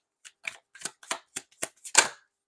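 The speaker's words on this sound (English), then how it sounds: "I'm getting told to shuffle again." Tarot cards being shuffled, seven or eight quick crisp riffles spaced evenly and close by, the last one loudest, with no talking.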